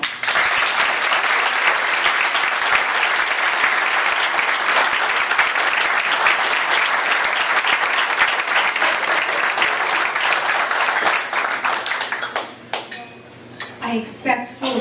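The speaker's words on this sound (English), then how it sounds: "Please join me in a round of applause for Nefo." An audience at an East Boston Chamber of Commerce gathering gives a warm round of applause, dense sustained clapping that carries on for about twelve seconds before thinning out into a few scattered claps and faint clinks of dishes.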